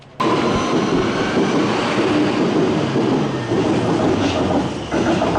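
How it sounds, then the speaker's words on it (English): A metro train at Amstel station in Amsterdam rumbles loudly and steadily, with clattering wheels and brief squeals of metal on rail, heard up close with no voices. "So here we are at Amstel station, where we swap from the tram 12 to the metro."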